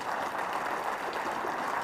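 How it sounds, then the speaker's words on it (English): An audience at a forum applauds a panel in a steady, dense wash of clapping that holds at an even level for the whole stretch. "why don't all of us give a big round of applause to our panel today"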